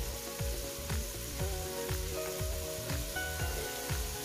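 Garlic, onion and ginger sizzle and fry steadily in a pan for bopis, with rhythmic stirring scrapes repeating about every half second over the constant crackle.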